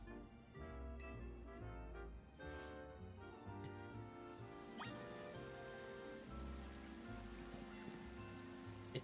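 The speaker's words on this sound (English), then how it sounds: "It's raining." Steady rainfall in the video game Pokemon Legends Z-A pours continuously throughout, a soft hiss of drops on surfaces layered under sustained game music, with no talking.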